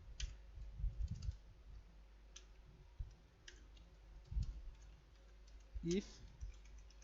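Someone types code on a computer keyboard, with sparse clicky keystrokes in small bursts, close and fairly quiet, while someone talks quietly over it.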